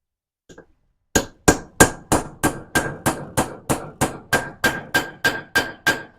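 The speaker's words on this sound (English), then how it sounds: "What you'll hear it kind of hammer in and then go like ting, ting, ting" Steady metallic hammer strikes driving a part into a Mazda B2000/B2200 cylinder head until bottomed out, about fifteen evenly spaced blows, each with a bright ringing ting, close and loud with no talking.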